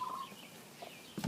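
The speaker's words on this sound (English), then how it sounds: "Chickens are over here." Chickens in a backyard garden give a few faint, brief clucks, one short call at the start and a low cluck near the end, against quiet outdoor ambience.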